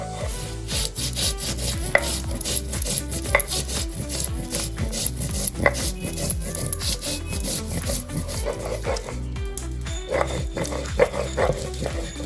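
Cumin seeds are ground by hand on a grinding stone, giving loud, steady rasping strokes that rub back and forth in a fast, even rhythm without a pause. No one speaks.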